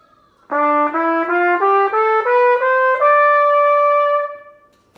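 A trumpet climbs an E Dorian scale note by note in a smooth, even rhythm, ending on a longer held tone that fades out; clear and close.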